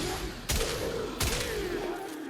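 Two loud shotgun blasts from a Strun Prime in a video game, spaced under a second apart, each a sharp close boom over a continuous game ambience.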